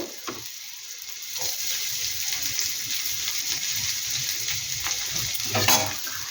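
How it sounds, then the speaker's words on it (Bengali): Onions fry in a pan with a steady, close hiss of sizzling that runs continuously, with occasional faint stirring bumps and no voices. "পেঁয়াজটা একটু হালকা করে একটু ভেজে নেবে।"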